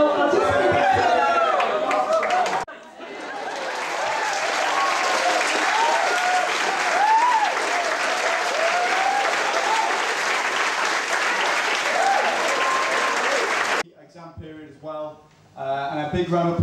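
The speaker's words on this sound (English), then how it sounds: "And a big round of applause also to all the Perrys that have played" Loud, sustained audience applause fills a school anniversary concert hall at Xaverian College, Manchester, marking its 150th anniversary, clapping steadily for about eleven seconds before stopping abruptly, with a voice speaking into the microphone before and after.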